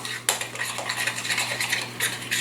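Metal utensil clinking and scraping steadily against a bowl while a mixture for a new flavor test is stirred, close and continuous with repeated bright taps, no talking.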